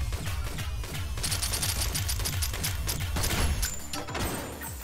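Shotgun blasts and rapid gunfire from the Synthetik video game, a dense, continuous barrage of loud sharp reports with heavy low-end thumps throughout, no talking.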